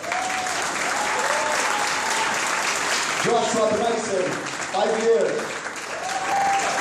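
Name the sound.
audience applause at a graduation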